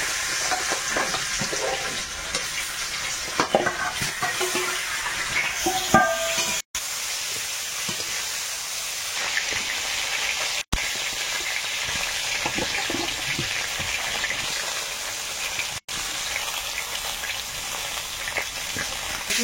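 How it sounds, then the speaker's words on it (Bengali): Green bogi fish fry one by one in hot oil, producing a steady, fairly loud sizzling hiss throughout, broken by a few brief drops and some clatter as pieces are handled. "মাছগুলো এক এক করে ভেজে নেবো।"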